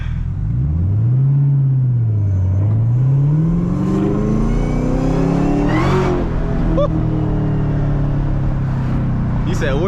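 A supercharged Camaro ZL engine revs and accelerates with a loud, close, sustained roar, its pitch rising and falling through gear changes while supercharger whine sits on top, with faint voices underneath during a nighttime drive around a campus.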